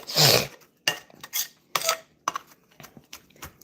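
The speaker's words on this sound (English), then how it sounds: "And then I just take my knife and just basically just chop it down." A knife chopping ingredients on a cutting board for a shrimp and sausage rice skillet: a burst of sharp clatter, then a string of close, uneven knocks and scrapes at an irregular rhythm.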